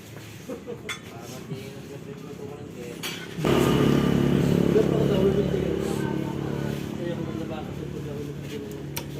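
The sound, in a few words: Kawasaki AR150 two-stroke motorcycle engine revving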